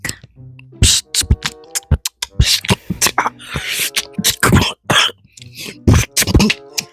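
Repeated sharp coughs and throat clearing in quick bursts, close and loud, with short gaps and some voiced sounds between them.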